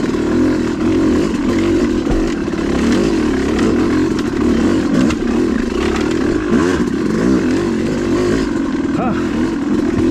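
A Yamaha YZ250 two-stroke dirt bike engine drones loud and close, lugging steadily at low revs over a wet, rocky off-road trail with brief rev changes, and a rider talks over it.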